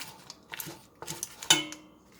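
A knife scores halved pork back ribs against the grain, giving a few quiet, brief clicks and taps of the blade on a board, spaced about half a second apart.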